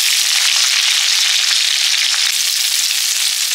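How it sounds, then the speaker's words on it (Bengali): Cumin and chopped onion tempering in hot oil for dal, a loud, dense, steady sizzle with constant crackle running throughout, close and uninterrupted. "ডালে এবার ফোড়ন দেব, একটু তরকার মতো করব"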